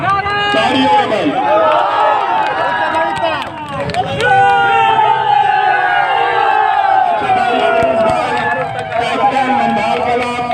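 A large crowd at a volleyball final prize ceremony cheers and whoops loudly and continuously, with a brief dip partway through, while a voice calls out over the din.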